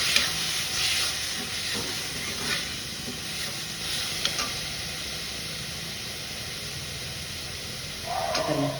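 Chopped tomatoes and vegetables sautéing in a pan, a continuous close sizzle and hiss with occasional stirring scrapes, no talking.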